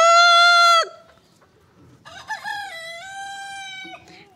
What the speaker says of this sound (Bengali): কুকুর কুক বললে ওরা বলে কুকুর কুক